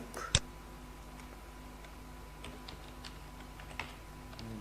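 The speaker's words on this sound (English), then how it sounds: "when you will open Google you have to type" A computer keyboard is typed on in a quiet room, giving faint, sparse key taps with one sharper clack near the start and another later on.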